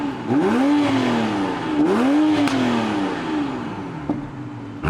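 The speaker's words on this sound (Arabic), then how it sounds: "اول خطوة بدأوا بيها كانت تجربة صوت العادم الاصلي للعربية." A 2020 Toyota Supra MK5 on its stock exhaust revs twice in close succession, each blip rising and falling loudly and close by, followed by a steadier idle-to-mid engine drone.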